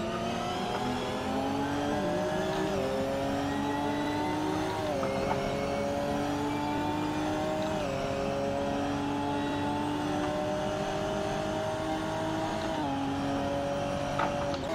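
Race car in Assetto Corsa at the Lédenon circuit re-accelerating out of a corner, engine note climbing through repeated upshifts, loud and close, steady and alone with no talking.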